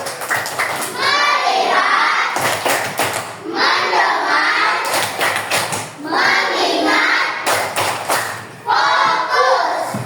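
A class of children claps in a call-and-response rhythm led by their teacher, with repeated bursts of sharp, close clapping that alternate with the children's chanting voices.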